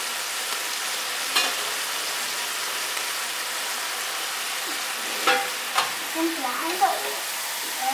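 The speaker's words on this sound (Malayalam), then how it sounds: "ഇനി നമ്മളിതെല്ലാം ഒന്ന് ഇളക്കി എടുക്കുകയാണ് ചെയ്യേണ്ടത്." Atta noodles frying in a pan, a continuous low sizzle with a few clattering stirs near the start and a burst of scraping strokes toward the end, heard close without speech.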